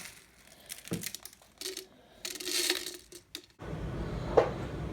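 Crinkly, crumpling and tearing noises of material being wrapped around a polystyrene model, close up, with soft irregular rustles and a steadier hiss at the end.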